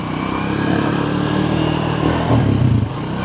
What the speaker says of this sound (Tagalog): Drive tayo ng motor.